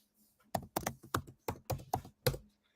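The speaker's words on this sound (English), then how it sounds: "I can hear you typing. That's because I'm typing." Typing on a computer keyboard, a burst of about eight sharp, distinct key taps in uneven rhythm, fairly close and clear, with no talk over it.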